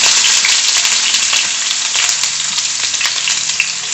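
Six small chopped white onions hit hot oil and fry with a loud, dense, continuous sizzle that crackles steadily and close up throughout, with no voices.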